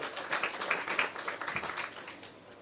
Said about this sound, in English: yes, give her a round of applause